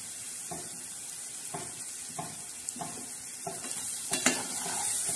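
Curry leaves and fresh coriander hit hot tempering oil for a cabbage dish, making a continuous close sizzle broken by regular scraping stirs of a spoon in the pan.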